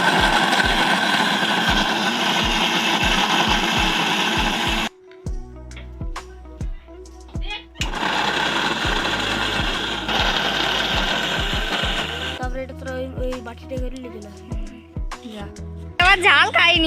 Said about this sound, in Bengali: বোন এবার এগুলোকে এক এক করে মিক্সিতে বেটে নিচ্ছে